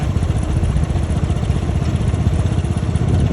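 A heavily loaded tractor's engine chugs steadily and loudly up close, a continuous rhythmic throb with no talking.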